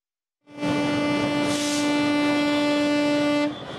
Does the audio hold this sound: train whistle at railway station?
yes